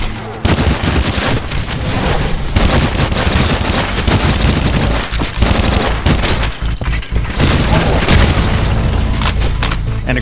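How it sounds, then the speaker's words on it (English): Submachine gun fire in the first-person shooter Cultic, loud rapid bursts of automatic shots with heavy booming impacts, sustained almost continuously with brief gaps between volleys. "A submachine gun."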